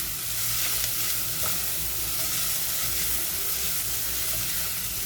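Finely chopped broccoli fries in a pan with a steady, even sizzle and a soft hiss close by, and a few faint stirring knocks sit under it with no talking.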